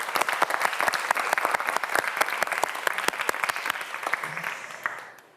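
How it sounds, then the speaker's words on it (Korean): A TV quiz show studio audience claps steadily for several seconds, a dense patter of hands that fades out at the end. "여러분 큰 박수 부탁드립니다."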